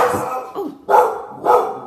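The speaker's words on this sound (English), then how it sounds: "sorry, that was my dog." A dog barks close by indoors, three sharp loud barks spaced evenly, each with a slight whining tail, with nothing else heard.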